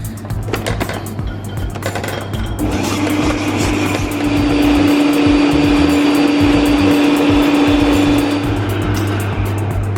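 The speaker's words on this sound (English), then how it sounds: "using my stand mixer with the paddle attachment, I've got some soft unsalted butter and some light brown sugar" A stand mixer with a paddle attachment creams soft unsalted butter and light brown sugar, a steady loud electric motor whir with a constant hum that grows slightly stronger midway and runs on without pause.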